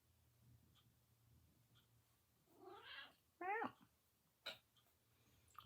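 A cat gives a couple of short, close meows, then a soft rustle or scrape, in an otherwise quiet room.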